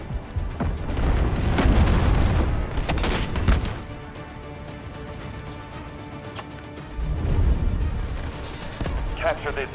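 An artillery barrage in Delta Force Hawk Ops, heavy booming impacts and rolling blasts mixed with gunfire, swelling loud, easing off, then rising again, with game voices heard over parts of it.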